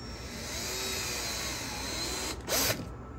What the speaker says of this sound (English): I'm gonna pre-drill two holes